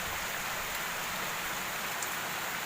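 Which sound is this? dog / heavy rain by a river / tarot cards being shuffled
heavy rain by a river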